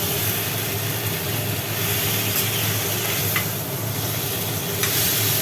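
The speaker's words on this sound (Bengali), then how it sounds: "এরপর ফেলে দেওয়া হলো কাঁকড়াগুলো" Crabs fry in hot oil in a home kitchen pan, a dense, steady sizzle with scraping stirs running continuously and close, with no talking.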